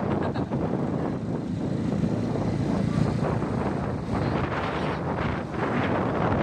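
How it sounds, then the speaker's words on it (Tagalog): A new motorbike's engine runs steadily on a road in Magalang, Pampanga, amid heavy wind buffeting against the microphone, a continuous rough rumble throughout. "Testing our new motor."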